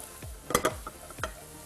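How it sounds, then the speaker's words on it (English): Onions fry in a pan as a spoon stirs them, with a low sizzle beneath a few quick scraping strokes and clatters in short bursts, quiet and close. "Keep stirring your onions."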